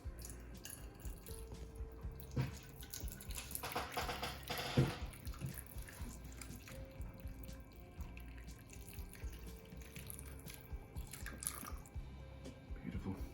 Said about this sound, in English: we'll now take our broth with minimum mess